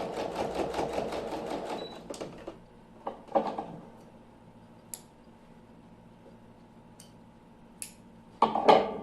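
A sewing machine runs a quick burst of stitching to run a narrow safety seam along the fabric edge, then falls quiet with a steady low hum, scattered small clicks and handling taps, and a final clatter.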